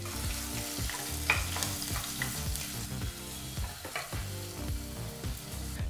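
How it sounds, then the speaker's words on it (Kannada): Chopped onion fries over a medium flame for tomato bath, its soft sizzle and stirring sitting under a louder bed of tonal background music throughout. "ಈರುಳ್ಳಿನ ಹಾಕಿ 2 ರಿಂದ 3 ನಿಮಿಷ ಈರುಳ್ಳಿನ ಫ್ರೈ ಮಾಡ್ಕೋಬೇಕು ಮೀಡಿಯಂ ಫ್ಲೇಮ್ನಲ್ಲೇ"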